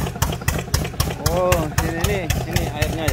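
An irrigation pump engine runs on a farm near Mecca in winter, a close, steady chugging idle with rapid regular thumps while someone talks over it.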